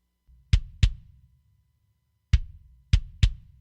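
A compressed kick drum plays a short pattern of five hits, two close together, a gap, then three more, each punchy and forward with a short decaying tail, heard alone.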